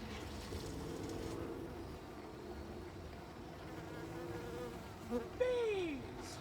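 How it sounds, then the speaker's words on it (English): A bumblebee buzzes steadily nearby, a low droning hum that rises and bends in pitch as it flies closer near the end. "I think that's a bumblebee though, so it's not too threatening."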